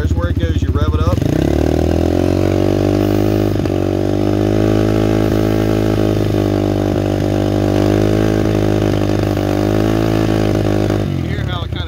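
A pit bike engine revs steadily and loudly with carburetor cleaner being sprayed into its intake, holding a sustained high idle for about ten seconds before dropping off at the end.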